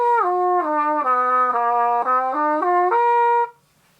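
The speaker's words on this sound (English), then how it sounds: "So it sounds something like this on the horn." A solo trumpet plays a descending major chord with a flat ninth at the bottom, a series of about eight clean stepped notes moving downward then back up, close and loud, ending abruptly with no talk.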